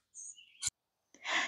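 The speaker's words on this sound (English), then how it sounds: "I don't think anyone will have problems hearing the birds chirping," A few short, high bird chirps sound outdoors, separated by brief pauses, faint and fairly close, with a breathy noise burst at the end.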